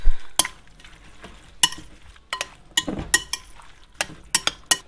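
Hot pepper relish made with plain vinegar is stirred in a bowl, giving a string of sharp scraping and clinking strokes at an irregular rhythm, close and fairly clear, with no talking.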